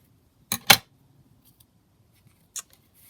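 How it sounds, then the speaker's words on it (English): Scissors snip through paper during a craft project, two quick close crisp cuts in a row followed by one more single snip after a pause, in an otherwise quiet room. "So I'm just going to cut that out."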